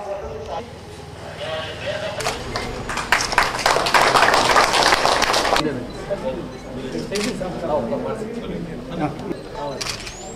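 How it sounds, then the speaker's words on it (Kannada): Loud applause breaks out at the inauguration of Udupi district, a dense burst of clapping that swells for a few seconds and then fades under a busy, crowded ambience with voices. "ಜೋರಾದ ಚಪ್ಪಾಳೆಯ ಸದ್ದು"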